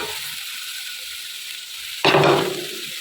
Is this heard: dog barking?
no